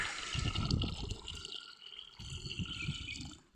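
Water from a tank is poured out for sparrows to drink, in two short gurgling, splashing bursts separated by a brief pause, close and fairly soft.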